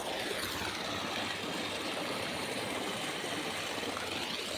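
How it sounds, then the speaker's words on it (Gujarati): Water runs steadily at a farm with a garden and a tractor shed, a continuous broadband rush of flow with no talking. "પાણી બહુ સરસ જાય છે"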